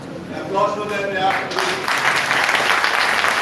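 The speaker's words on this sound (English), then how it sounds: "Applause to them" Audience applause at a college pro bono cell inauguration as people are called onto the stage; a voice speaks at first, then a broad burst of clapping swells and continues to the end.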